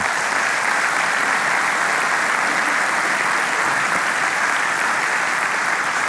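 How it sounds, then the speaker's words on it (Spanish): A church congregation applauds during a sermon, a dense, steady wash of clapping from a large crowd that holds at full strength for about six seconds with no talking over it. "dale un aplauso fuerte al Señor"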